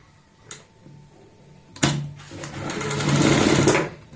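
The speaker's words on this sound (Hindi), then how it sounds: "यहाँ पे हम सिलाई लगाएंगे ऐसे" Sewing machine stitching the sleeve seam of a kurta, starting after a couple of soft knocks and running steadily for about two seconds, fairly close.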